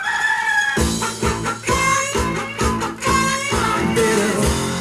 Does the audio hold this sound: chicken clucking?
yes